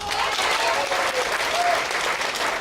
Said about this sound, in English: Show me by applause if you know how he sounds.